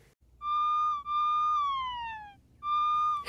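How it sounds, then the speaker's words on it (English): A cartoon siren sound effect rises and falls in a clear electronic wail, with two long sweeping tones separated by a brief gap and then a third start, loud and alone. "Could we use a siren to tickle the flowers?"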